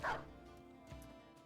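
A dog in the Battle Brothers video game gives one sharp, close bark followed by a faint whimpering tail.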